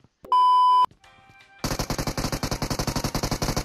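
In the mobile shooter BGMI, a short electronic beep and faint chimes give way to a rapid burst of automatic gunfire, evenly spaced shots rattling close and loud for about two seconds.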